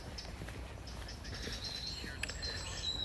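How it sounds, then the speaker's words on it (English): Birds singing in a park, faint scattered chirps and tweets over quiet background hiss, with a few brief higher calls. "Look, you just hear the sound of birds."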